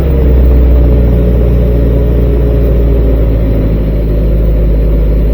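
A 1943 army jeep engine runs at a steady idle, close and loud, a constant rumbling drone without talk.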